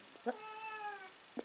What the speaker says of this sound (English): I do apologise for my cat.